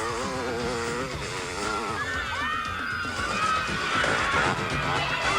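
Motorcycles racing at the 1988 Venda Sun 400, engines buzzing and revving from near to mid distance with rising and falling pitch, under a voice talking throughout.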